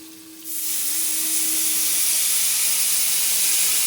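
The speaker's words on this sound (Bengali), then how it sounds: "এবার আমি জল ঢেলে দিচ্ছি।" Water is poured into a hot pan of frying cabbage for broken-wheat khichuri. After a quiet start it bursts into a loud, sustained steam hiss that stays strong to the end.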